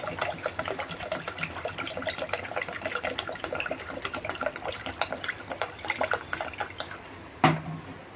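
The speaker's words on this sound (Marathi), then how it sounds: "जेवढं पाहिजे ना ग्रेव्ही तेवढं पाणी ओतायचं" Water is poured steadily into a crab curry made with ghati masala to form the gravy, giving a continuous splashing fill that ends with a sharp knock.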